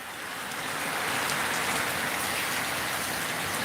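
Steady rain falls in a dense, even hiss of drops that holds for a few seconds at moderate level, with no voices.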